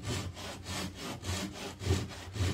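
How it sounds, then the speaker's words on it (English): A hand saw rasps through the wooden legs of a three-legged stool in steady back-and-forth strokes, about eight even pulls, close and fairly loud. "I'm going to cut the tops of these legs off."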